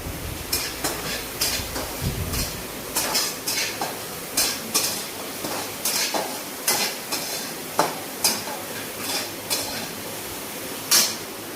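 Onion fries in oil in a pan, a soft steady sizzle broken by repeated scraping and clinking as it is stirred at a regular pace.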